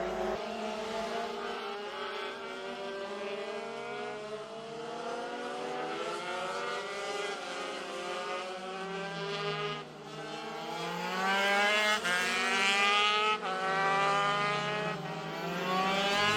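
MiniGP70 racing motorcycles howl past on a circuit at Paddock Bend, a continuous, shifting whine of several small engines rising and falling as they pass, fairly loud and close, with no voices.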